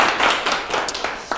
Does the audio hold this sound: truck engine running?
no